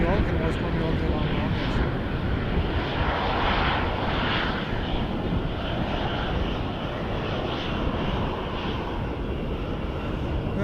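A steady, broad engine roar from an airliner taxiing at Edmonton International Airport, heard from a distance and continuous throughout, with people talking over it.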